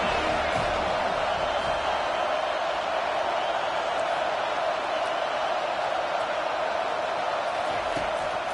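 A football stadium crowd roars steadily before a big third-down defensive play, a dense, sustained wash of cheering and noise from a large crowd that holds level throughout.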